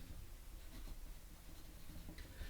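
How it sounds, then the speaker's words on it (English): Marker pen scratching across paper while a word is written, a close, steady rubbing stroke sound with short bursts, no talking over it. "I'm writing the word glue at the bottom."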